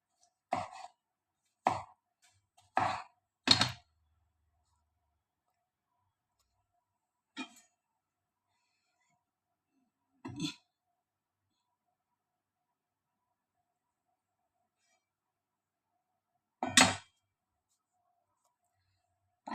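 Three tomatoes are cut into small pieces on a board, giving a few scattered sharp knife chops: a quick cluster of four at the start, then isolated chops spaced several seconds apart with silence between.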